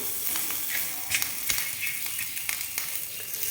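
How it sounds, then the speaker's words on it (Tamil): Curry leaves sizzle and crackle in hot oil while a mango pachadi is being made, a steady close frying hiss with scattered sharp pops and spits, no talking. "கருவேப்பிலையும் வந்து போட்டுடலாம்."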